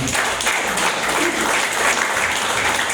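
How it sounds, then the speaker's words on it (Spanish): A church congregation claps at a Spanish-language service, dense steady applause throughout, with no voices. "Denle un aplauso al Señor."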